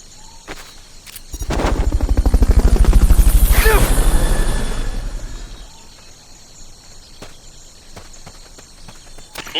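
A helicopter in the Metal Gear Solid: Peace Walker video game swells into a loud rhythmic rotor thumping with a rising whoosh, passing close and then fading to a lower drone, with sharp clicks around it.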